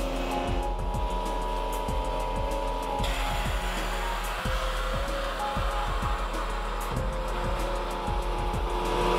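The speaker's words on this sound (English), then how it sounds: "To run a cycle, just press the lid down like so" A VP734 commercial double chamber vacuum sealer runs a cycle, a steady loud motor drone with a continuous hiss and repeated low pulsing thumps, close and alone without speech.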